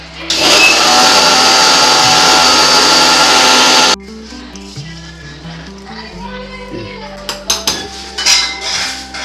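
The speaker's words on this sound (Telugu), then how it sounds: "ఇంకా అంతాక ఇలాగా మిక్సీ పట్టేస్తున్నాను అనమాట" A loud mixer grinder grinding curry leaf chutney whirs steadily for about four seconds, then stops abruptly, followed by a humming tone, clinks and handling noises.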